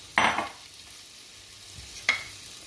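A spoon stirs chickpeas into a salad mixture in a bowl, two brief scraping swishes about two seconds apart, close and quiet, with near silence between them.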